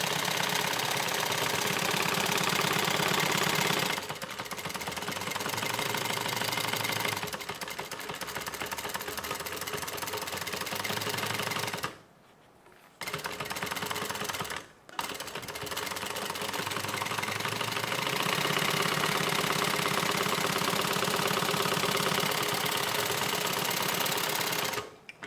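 A sewing machine runs in long steady bursts of rapid mechanical stitching as bag pieces are basted together, stopping briefly twice before resuming, with no talk.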